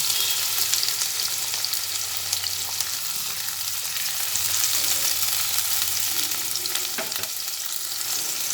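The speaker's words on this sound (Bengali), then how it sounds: "তেলের মধ্যে দিয়ে ভেজে নিচ্ছি দুটো কাঁচা লঙ্কা ফাটিয়ে দিয়ে দিলাম" Green chillies, onion and garlic frying in oil, a loud, steady close sizzle with occasional stirring scrapes and no talk.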